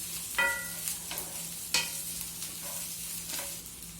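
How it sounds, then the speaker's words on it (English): Carrots cut like French fries stir frying in a pan for Chinese noodles, a low sizzle with a few sharp scraping clatters of the spatula at irregular moments, close and moderately quiet, no talking. "And stir fry it for 1 minute."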